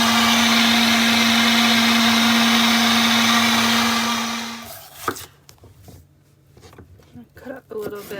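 A blender mixes no-egg omelet batter made with avocado oil, running with a loud steady whine for about four and a half seconds before shutting off, followed by quieter clattering and handling noises.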